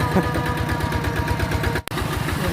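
A Toyota Vigo pickup truck drives along a rural route to the fields, its engine droning steadily and loudly with a pulsing rhythm, interrupted by a brief dropout near the end.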